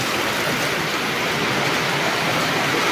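Heavy rain falls during a windy storm, a dense and steady close-up hiss of water that continues unbroken throughout with no voices.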